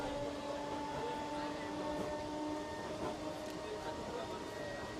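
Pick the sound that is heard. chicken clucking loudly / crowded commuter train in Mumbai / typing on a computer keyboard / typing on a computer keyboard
crowded commuter train in Mumbai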